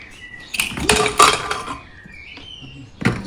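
A lid clatters and clanks as it comes off a metal pot of cooked lentils, with a few sharp metallic knocks and a last clink after a short pause.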